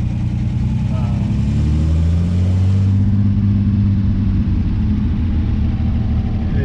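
A restored 1967 Austin Healey 3000 BJ8 MKIII on a test drive, its engine a steady close low rumble that rises in pitch, then settles into cruising drone with wind noise.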